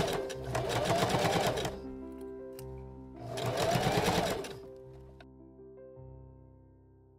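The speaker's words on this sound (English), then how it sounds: "I stitched each piece onto its side seam and pressed them all open" A sewing machine stitches pocket pieces onto the side seams of a Victorian bustle gown in two bursts of a few seconds each, with rapid, even, close mechanical whirring and a faint hum between the runs.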